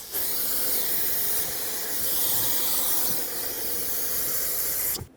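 Brake parts cleaner sprays from an aerosol can in one continuous, loud, close hiss lasting about five seconds before cutting off abruptly, used to rinse a front wheel bearing hub from a 2012–2017 Toyota Camry.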